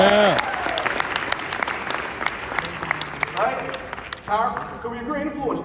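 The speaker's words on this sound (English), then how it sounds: "Let's give her a round of applause." An audience applauds at a business presentation, a scattered round of clapping running under a man's speech and brief cheers.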